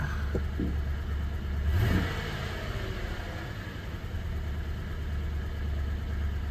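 A car engine idles steadily while running very low on fuel, a continuous low rumble that swells briefly near the start and then holds even, close by with no talking.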